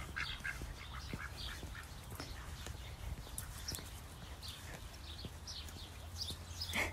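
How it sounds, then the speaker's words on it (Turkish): Ducks quacking in short scattered bursts over a steady low outdoor rumble, with occasional light knocks, in Göksu Park, Ankara; no talking. "Şöyle ördeklerimiz de var."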